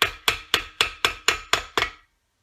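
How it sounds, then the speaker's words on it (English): Seven sharp, evenly spaced hammer strikes on a metal sheet being curved into jewellery, each ringing briefly, close and fairly loud, before stopping. "you can start hammering in the middle. You can see how you are shaping the metal."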